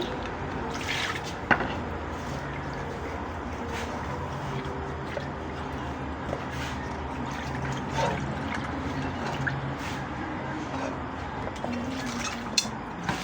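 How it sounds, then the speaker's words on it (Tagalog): Water runs and trickles steadily into a vessel, with occasional drips and light clinks, fairly close and continuous throughout. "Tama, maglagay ulit ng tubig."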